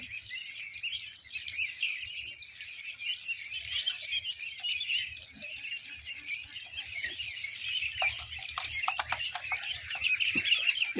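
Chickens and chicks clucking and peeping outdoors, a busy soft chorus of small calls with light pattering, no talk.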